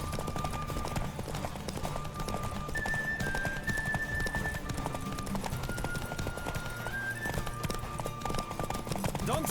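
A horse gallops in The Witcher 3, its rapid clip-clop hoofbeats driving steadily throughout, with brief tonal game sounds and faint voices layered over the rhythm.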